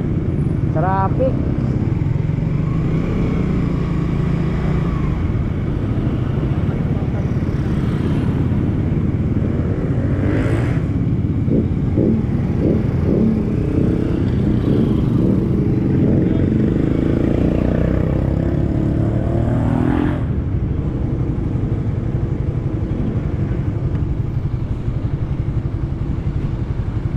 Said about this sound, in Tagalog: Traffic mga kautoy.